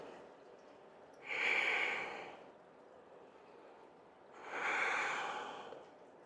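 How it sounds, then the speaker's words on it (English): Two slow, breathy exhales roughly three seconds apart during a yoga hip practice, soft and close, with quiet room between them. "Breathe."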